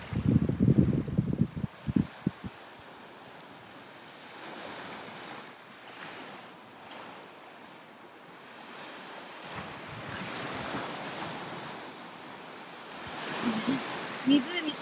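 Wind at Woodbine Beach on Lake Ontario in Toronto on a cool, cloudy day rumbles and buffets the microphone, with rushing waves behind it and a few stronger gusts at the start and end.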